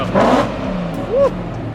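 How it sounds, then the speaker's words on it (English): An Imola red BMW E39 M5 with carbon exhaust tips pulls up, its engine revving briefly in two rising pushes, fairly near, against a busy background. "beautiful Imola red E39 M5 pulling up"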